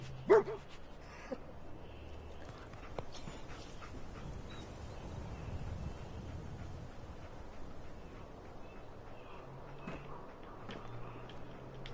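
A dog in Fallout 4 barks sharply at the start, then gives a few faint yips and whimpers over a quiet, steady outdoor wasteland ambience.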